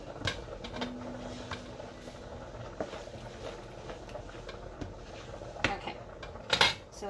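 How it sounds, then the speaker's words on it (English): A utensil mixes cheesy spaghetti with meat sauce in a pot, giving soft scrapes and a few clinks against the metal. The sounds come steadily, with louder knocks near the end. "give it a good mix"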